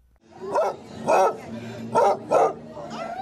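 Basset hounds bark in a string of four or five loud, deep, baying barks up close, at an outdoor gathering of several hundred of the breed in Canterbury Village.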